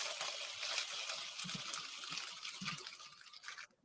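Popcorn being poured into a container, a continuous rattling, crackling stream of light kernels that holds steady for about three seconds and then stops abruptly.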